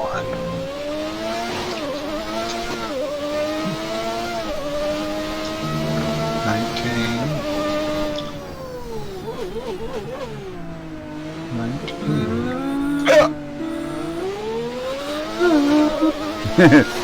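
A 1991 McLaren MP4 V10 Formula 1 car screams through rising and falling revs as it shifts gears and accelerates, loud and close, with people talking faintly underneath.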